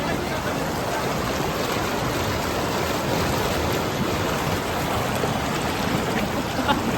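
Steady rushing stream water at Chakrata, Uttarakhand, fills the whole stretch, a dense continuous flow with no breaks, close by.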